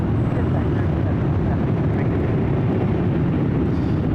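Japan Airlines Boeing 787-9 Dreamliner jet on the runway at LAX, a steady, loud low roar of engine noise holding constant throughout with no distinct breaks.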